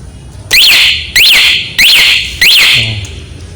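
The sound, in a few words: Yamaha NMAX motorcycle remote alarm triggered by shaking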